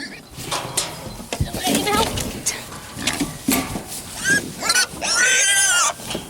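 Pigs grunt and squeal repeatedly, close by, amid a busy farmyard with people talking in the background.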